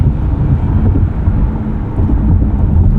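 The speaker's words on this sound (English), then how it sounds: "This engine's nice and responsive." A 2025 Chevrolet Corvette Stingray 3LT accelerates with a deep, loud, steady engine roar, heard from inside the car, with rumbling low drone and wind noise and no talking.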